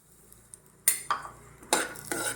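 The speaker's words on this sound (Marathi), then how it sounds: "आणि अक्रोड पण एवढे शंभर ग्रॅम घेतले ते पण भाजून घेऊया" Walnuts roast in ghee in a pan for dry fruit laddus, with clattering stirs and scrapes against the metal over a faint sizzle.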